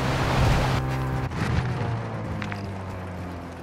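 A boat engine in a video game drones with a steady low hum and rushing water, fading somewhat partway through, with no voices.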